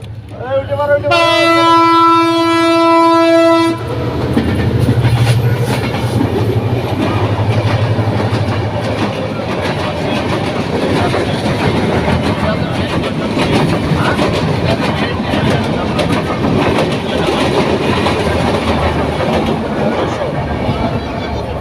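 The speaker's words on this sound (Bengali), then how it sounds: "ট্রেন দেখতে পেলাম ট্রেনটি চলে গেল" A train sounds its horn, then rumbles past with steady rattling and clacking of wheels on track, loud and close throughout.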